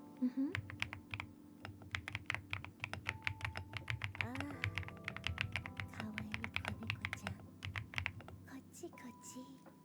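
Close, quiet ASMR typing on a thocky keyboard fitted with marshmallow keycaps, a dense run of soft, deep keystroke taps in uneven bursts, with faint low talking and a few stray tones in the background.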